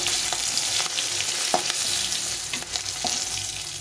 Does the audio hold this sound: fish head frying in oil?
yes